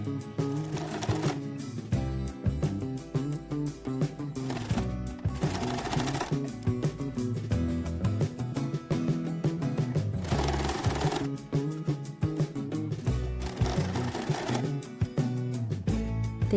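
A domestic sewing machine stitching along the fabric edges of a handmade bag, running in steady rhythmic bursts close up with short pauses between runs.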